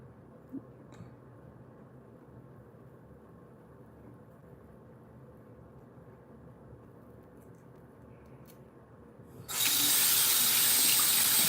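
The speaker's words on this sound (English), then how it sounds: "You want to rinse it off after you go all the way down." Tap water bursts on loudly near the end to rinse off a razor or brush, a steady close rushing stream after a long stretch of quiet room hum.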